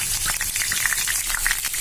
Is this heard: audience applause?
no